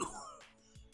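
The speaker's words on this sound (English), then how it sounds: "Cough." A single short cough, close and fairly quiet, followed by a faint throaty rasp.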